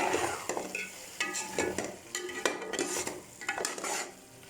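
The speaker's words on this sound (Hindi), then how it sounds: "इसको चम्मचे की मदद से मिक्स" Ash gourd halwa stirred with a spoon in a pan over a slow flame, with repeated scraping and clinking strokes of metal on metal at a close, moderate level over a faint sizzle.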